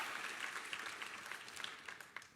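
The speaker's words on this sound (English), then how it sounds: "let's give him a round of applause" Round of applause from an audience at the 2011 Bowerman award ceremony honoring Ngoni Makusha, steady dense clapping carrying on throughout, moderately loud and without voices.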